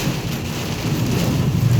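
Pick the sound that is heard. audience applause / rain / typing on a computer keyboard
rain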